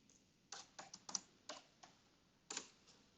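Keys clack on a computer keyboard as a login ID and password are typed: quiet, close, irregular taps in short bursts, with no voices.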